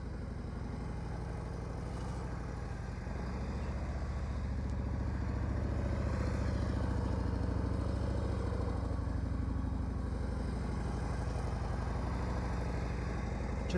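Motorcycle engine running steadily during slow-speed riding practice with rear brake use, a continuous low throbbing hum that stays even and close throughout, with a faint clatter and no talk.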